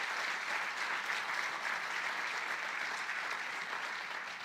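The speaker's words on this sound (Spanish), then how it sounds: "Alguien que aplauda al Rey de Reyes y Señor de Señores." Church congregation claps together in a sustained, even burst of applause, a dense full-room sound that fades slightly toward the end, with no talking.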